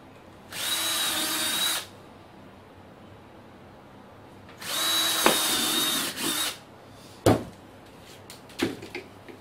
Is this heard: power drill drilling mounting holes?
yes